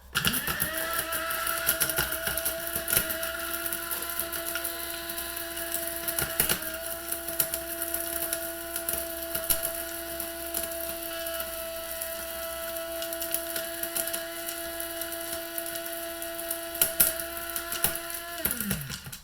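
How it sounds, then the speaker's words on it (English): Electric grinder whirring steadily as it grinds homemade seasoning that is not dehydrated, a continuous motor drone with harmonic tones running for nearly twenty seconds before spinning down, no talking. "So let's put the top on here and grind this up."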